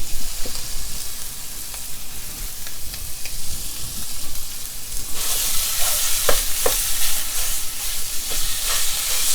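Breakfast sausage sizzles and spits in a hot frying pan, with occasional stirring scrapes; the frying grows louder and brighter partway through.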